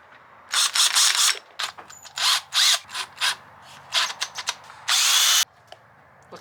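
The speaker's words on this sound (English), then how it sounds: "basically, we're just gonna drill 6 holes" A power drill bores holes into a cracked car bumper in a string of short, loud bursts, each revving up and cutting off, ending with one longer, sustained run.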